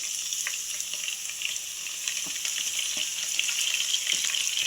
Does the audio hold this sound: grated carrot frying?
yes